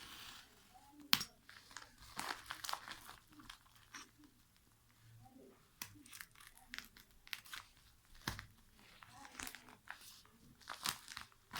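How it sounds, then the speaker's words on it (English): A box cutter slices through a shipping label on a package holding a solar charge controller, giving soft scratchy cuts and crinkling plastic in irregular bursts, close and fairly quiet. "We cut the label."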